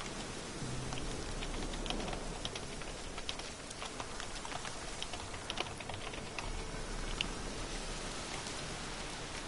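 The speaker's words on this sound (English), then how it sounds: "Oh, of course, looks like rain." Rain falling steadily as a dense, even patter of fine drops, with scattered sharper ticks like drops striking a hard surface, soft and continuous with no voices.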